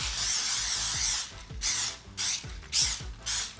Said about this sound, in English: We have to spray our plate really well.